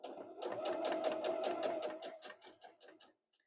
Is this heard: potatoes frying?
no